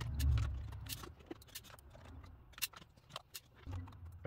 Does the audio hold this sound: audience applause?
no